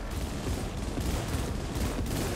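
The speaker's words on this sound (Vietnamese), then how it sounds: "Ô, nó bắn xẻ tôi kìa." Sustained gunfire in a firefight in the video game Cyberpunk 2077: dense, rapid bursts of shots running continuously at close range with no pauses.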